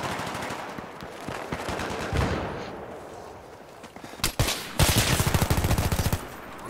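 Dense bursts of automatic and single-shot gunfire from the video game Battlefield 3, irregular volleys close and loud, with sharp isolated shots and a rapid final burst.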